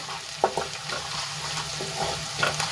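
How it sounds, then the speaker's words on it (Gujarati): Ginger, garlic and chillies sizzle steadily in hot oil, a continuous crackling fry punctuated by a few sharp pops and light stirring clinks, close and without talk. "આદુ લસણ અને મરચાં સંતળાઈ ગયા છે"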